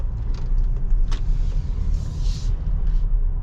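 A 2023 Ford Explorer moves slowly through a parking lot, heard from inside the cabin as a steady low engine and road rumble with a few faint clicks and rattles.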